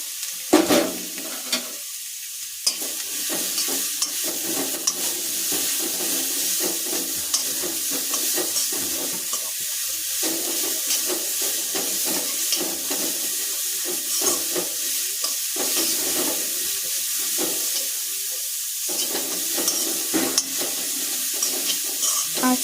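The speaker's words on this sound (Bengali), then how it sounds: "এবার গাজরটা দিয়ে একটু ভেজে নেব।" Grated carrots frying in ghee with cardamom, stirred steadily in a pan with a continuous sizzle and scraping spoon strokes, close and without speech.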